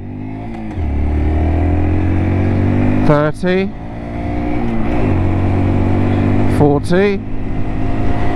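A 2023 Honda DAX ST125 motorcycle accelerating at full throttle, engine droning loud and close and climbing in pitch through the gears with two quick shift breaks, while a rider talks over it.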